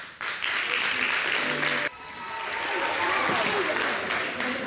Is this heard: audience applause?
yes